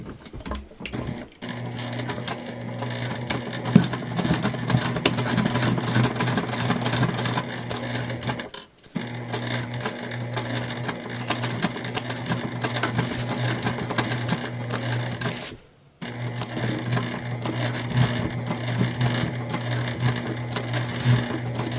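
A sewing machine stitches the lining of a Briana bag through bulky layers, running in long steady bursts with two brief pauses, loud and close with no talk.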